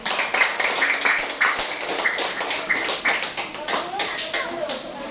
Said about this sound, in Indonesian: Silakan untuk kelompok 1 kita beri tepuk tangan dulu.